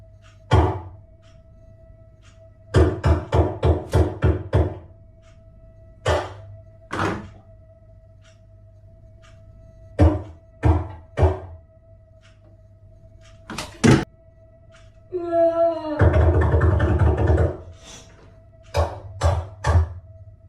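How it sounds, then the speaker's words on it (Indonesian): Sharp knocks and thuds ring out in a bathroom, picked up by a GoPro. Single raps and quick clusters of raps are separated by quiet gaps, and a louder rattling clatter of something falling comes near the end. "Kali ini bukan cuma suara ketukan dan jatuh barang doang."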